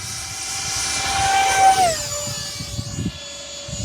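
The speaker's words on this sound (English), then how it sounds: "So just for the sake of awesomeness, we'll take off with the wind this time." An E-flite Habu 50mm electric ducted-fan RC jet takes off downwind, its loud high-pitched turbine whine holding steady and then dropping in pitch as it passes close by and moves away.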